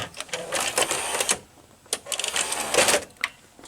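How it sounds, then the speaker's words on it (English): A Quasar VH5471-K VCR with a bad idler labours to turn the tape, producing bursts of close mechanical clattering and whirring separated by brief quiet gaps. "the idler is working bad because the pulley is turning on the bottom side. And the tape struggles to go forward"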